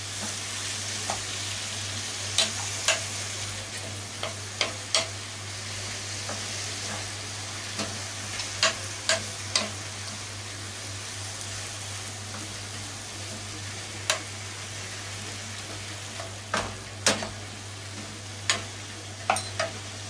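Steady sizzle of carrots stir-frying in a hot pan for ninjin shiri shiri, with occasional sharp clicks and taps of a utensil over a low hum.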